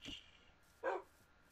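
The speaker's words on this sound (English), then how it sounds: "I've obtained a lot of dogs," A dog barks twice in a Minecraft-style survival game, two short distinct yips set apart by a pause, faint against a quiet background.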